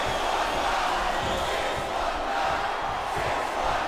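Capacity crowd in a video game wrestling arena during a Rey Mysterio versus Ashley ironman submission match, a dense, continuous roar of cheering that fills the whole stretch at steady loudness.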